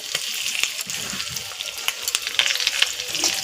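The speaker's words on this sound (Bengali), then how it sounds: "এর মধ্যে এখন নুন মাখানো আর হলুদ মাখানো মাছটা দিয়ে দিব।" Hilsa fish rubbed with salt and turmeric sizzles steadily in a hot pan, a close, crackling fry with occasional sharper spits and pops, no voices.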